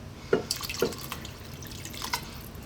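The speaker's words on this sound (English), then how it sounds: "I'm going to add just a little bit more water" A little more water is poured into a thick broccoli cheese soup in a pot, giving two soft, close drips and splashes over a quiet kitchen background with no talking.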